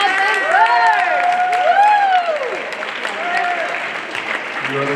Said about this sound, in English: So give a clap for Mr.